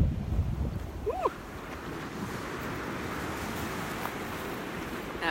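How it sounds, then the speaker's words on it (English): Strong wind sweeps across a beach, a steady broadband roar with microphone buffeting and surf behind it, loudest in the first second, while a brief birdlike chirp sounds once. "That wind is something."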